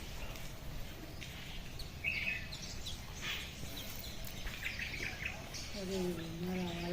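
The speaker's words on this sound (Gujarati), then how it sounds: "પક્ષીઓના કિલકિલાટ સાથે આનંદ હી આનંદ." Small birds chirp and tweet in scattered bursts outdoors, faint and somewhat distant against a steady background hum, with a voice briefly heard near the end.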